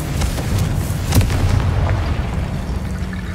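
In the video game Hogwarts Legacy, a Confringo fire spell bursts with a booming explosion over a rumbling low background, followed by scattered sharp pops and crackles.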